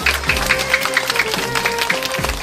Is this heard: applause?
yes